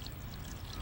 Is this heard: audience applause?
no